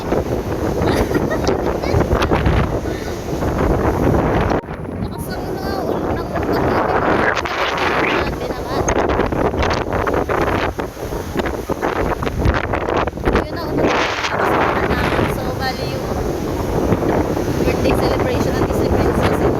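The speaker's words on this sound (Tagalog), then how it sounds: "Sobrang lakas ng hangin." Strong gusty wind on a beach buffets the microphone in loud, continuous roaring blasts, with surf faintly beneath and a person talking intermittently over it.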